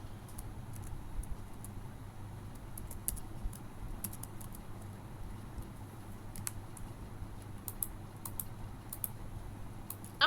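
Computer keyboard typing code, sparse light clicks spread over a steady low hum, faint and somewhat distant, no talk.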